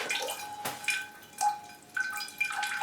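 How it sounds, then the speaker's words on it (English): Water poured from above onto an orchid's aerial roots and into its pot, heard as a series of separate splashing drips and trickles landing every half second or so, close and fairly quiet. "when I get aerial roots on a plant like this, I make sure I pour water over them"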